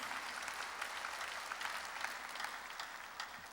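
A church congregation claps during a worship service, steady sustained applause from many hands throughout, moderately loud and even, with no speech over it.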